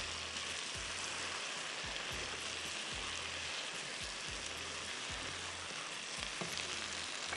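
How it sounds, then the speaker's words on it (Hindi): Meat frying in a pot for a bhuna, with a steady broadband sizzle running throughout and faint repeated low thumps of stirring, no voices. "इसको अच्छी तरह आप भून लें।"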